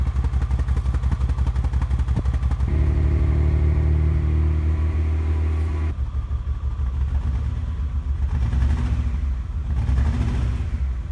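A 1988 Acura Legend's Honda V6 engine idles and runs steadily nearby after new fuel injectors, a deep even rumble with a smooth low throb and slight changes in tone partway through.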